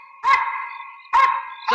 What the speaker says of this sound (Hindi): एक कुत्ते पुलिस वालों को देख के क्यों भौंकते हैं?